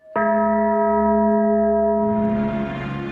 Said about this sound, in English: As we strike the bell